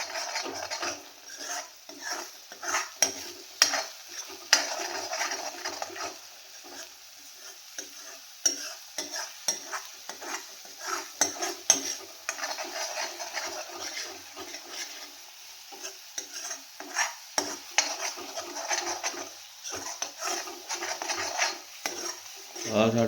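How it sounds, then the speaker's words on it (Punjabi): Curry leaves and masala fry in hot oil for kadhi pakora, a soft steady sizzle broken by frequent spoon scrapes and clinks against the pan, close and fairly quiet. "ਪਹਿਲੇ ਹੀ ਕੜੀ ਪੱਤੇ ਨੂੰ ਜਿਹੜਾ ਹੈਗਾ ਤੇਲ ਦੇ ਵਿੱਚ ਭੁੰਨਿਆ ਜਾਂਦਾ"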